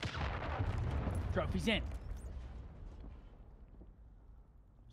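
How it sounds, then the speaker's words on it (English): A cruise missile strike lands in Call of Duty: Modern Warfare 3 during a tournament match, with a heavy booming impact that rumbles and slowly fades. A player speaks briefly over the blast. "calling in that cruise missile"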